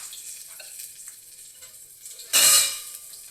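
Ginger garlic paste hits hot oil in a pan for vegetable pulao, giving a sudden loud hissing sizzle near the end after quiet, faint kitchen background.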